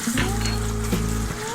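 Crushed garlic hitting onions already frying in a pan for a Bengali fish head and cabbage dish, with a close, steady sizzle and a low constant hum beneath.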